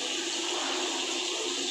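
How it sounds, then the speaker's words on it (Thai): Strong, steady stream of water pouring from a newly installed bathroom sink faucet, a dense continuous hiss with no break, close by and with no talking. "นี่ครับน้ำไหลแรงมาก"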